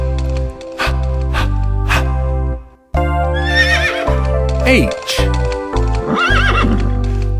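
A horse neighs and whinnies within a children's phonics song about the letter H, with clip-clop hooves and music running throughout; the whinnies come loud and repeated in the second half, with singing over the track.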